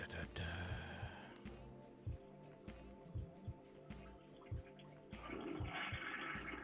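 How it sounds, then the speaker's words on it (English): A toilet flushes with a long rushing, gurgling swirl of water, with voices talking over it throughout. "now we got to listen to people flushing toilets"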